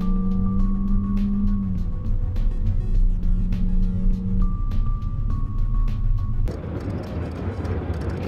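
A Honda Civic Si drives on a race track in economy mode, its engine a steady loud drone with rising and shifting tones and a gear change near the end, heard from inside the car without talk.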